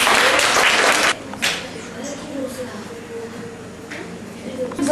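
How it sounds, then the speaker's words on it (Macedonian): A classroom audience claps for a student's presentation: a loud, dense burst of applause lasting about a second, then it drops away abruptly into a quieter room with faint talk. "Ајде еден аплауз за Наталија."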